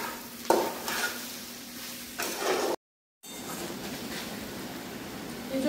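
Jackfruit chunks sauté in a pan for an Bengali echor kalia, a continuous sizzle with scraping stirs and a clack near the start, cut by a brief silent gap before the frying resumes.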